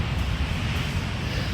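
Big ocean waves breaking on a beach, a steady loud roar of surf with wind rushing across the microphone and no voices.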